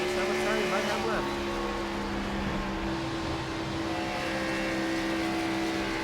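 Race car engine on a racing circuit as the driver lifts off the throttle, a steady loud drone with droning harmonics that eases slightly, heard under a commentator's voice throughout.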